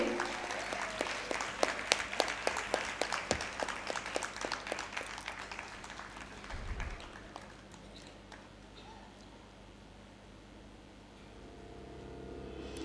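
Audience applause at an award ceremony for a one-act play competition in Pune, Maharashtra: dense, loud clapping with sharp individual claps for about seven seconds, then thinning into softer scattered hand claps and room murmur.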